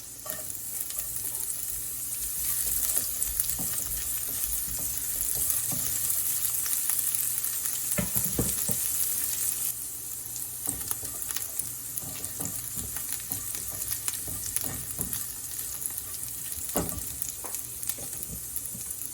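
Green chilies frying in a pan, a continuous close hiss of hot oil with intermittent stirring clatter and scrapes throughout, slightly quieter in the second half.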